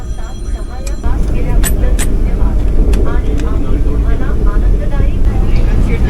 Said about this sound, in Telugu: ట్రైన్ అయితే కాన్స్టెంట్గా 130 స్పీడ్ వెళ్తుందనమాట.